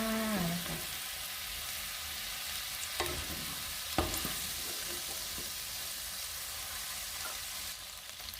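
Shrimp stir-fried with chili and salt hiss and sizzle steadily in a hot pan, with a few sharp clinks of a spatula scraping the pan, close and loud throughout with no talking.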